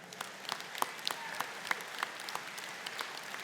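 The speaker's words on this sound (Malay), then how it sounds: "kita bagi tepukan gemuruh kepada ayahanda kita" Scattered applause rises from an audience at a political youth wing address, distinct individual claps popping through a soft crowd patter, moderately distant and not very loud.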